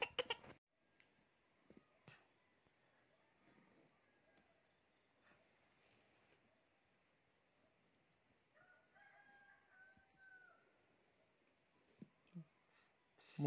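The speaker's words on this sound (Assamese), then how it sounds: "শুনিছা নাই মুৰ্গীয়ে ডাক দিছে" A rooster crows at dawn at moderate distance, one drawn-out call rising above a quiet room with scattered faint clicks and knocks.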